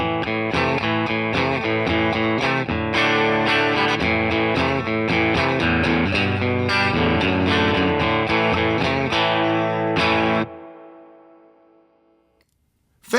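Electric guitar played through a Fender '65 Deluxe Reverb amp model, a rich run of chords and notes ringing with reverb and shimmering modulation for about ten seconds, then letting the last chord decay to near silence.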